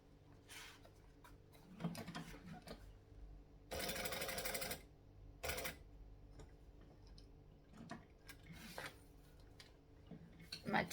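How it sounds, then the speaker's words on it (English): A sewing machine stitches around the edge of a fabric tag in short, faint bursts, with one longer run of stitching and light ticking and handling clicks in between, in a quiet room. "I'm just going to stitch, back stitch, and sew all around the edge"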